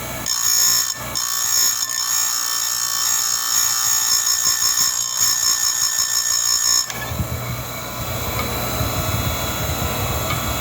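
A grinder makes light passes on a tooth with a loud, steady, high-pitched whine that keeps going throughout. Its tone shifts lower and rougher partway through.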